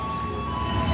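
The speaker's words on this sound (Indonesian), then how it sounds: "Pangrango baru tiba di stasiun Sukabumi ya teman-teman" Pangrango train arriving at Sukabumi railway station, a short steady rumble of rolling wagons with a faint sustained tonal whine, heard close without voices.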